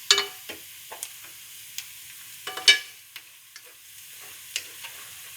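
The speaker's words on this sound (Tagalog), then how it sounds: "Gigisa lang ako ng sibuyas tsaka bawang." Onion and garlic sautéing in a pan for spaghetti, with scattered sharp spatula taps and scrapes over a faint, quiet sizzle, no talking.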